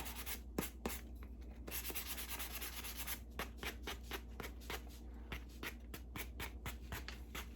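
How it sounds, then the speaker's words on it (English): Sandpaper is rubbed lightly over a thrifted decor piece to distress it, making quiet, rhythmic scratchy strokes in close, short bursts. "what I'm gonna do is just take my my sandpaper, and I just want to lightly distress them a bit."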